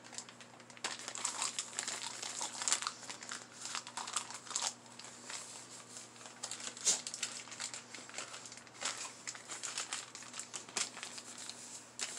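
Two used butter wrappers rubbed over the cut flesh of a butternut squash give steady close crinkling and rustling for several seconds, with soft crackles over a faint hum.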